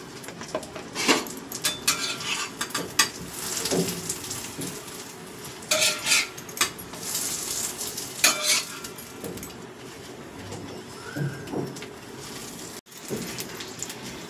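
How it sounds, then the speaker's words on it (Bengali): A potato chapati fries in ghee on a griddle, a steady close sizzle under intermittent clinks and scrapes of a utensil against the pan, with no voices. "এবার আমি দিয়ে দেবো চাটুতে। অবশ্যই ঘি দিয়ে ভাজতে হবে"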